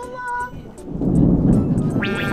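Thunder and rain in the misty mountains of Phu Thap Boek, Phetchabun: a deep, rolling rumble swells after a second and carries on to the end, following a brief voice at the start.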